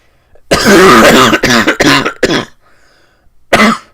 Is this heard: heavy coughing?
yes